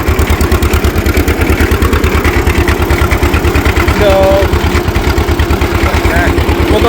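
A 1940 John Deere BO tractor engine runs close by with a loud, steady, evenly spaced low putt-putt beat, and someone talks briefly over it.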